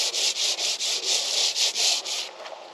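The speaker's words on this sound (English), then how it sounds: "when I sand a little bit sandpaper on, just get a little dust" Sandpaper rubs by hand over a sailboat hull before painting: about nine loud, close, rhythmic back-and-forth rasping strokes, then a softer scuff as the sanding stops, with no talking.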